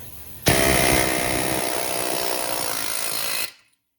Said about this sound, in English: Air chisel with the pointy bit.